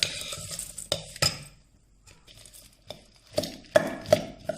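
A spoon stirs puffed rice in a bowl while instant bhel puri is being mixed. Scattered clinks and scrapes come in bursts, loud and close, separated by quieter gaps.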